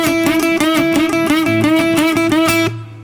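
A quick electric guitar lick in a bluesy rock and roll style, repeated bent double-stop notes played bright and loud, ringing out briefly at the end.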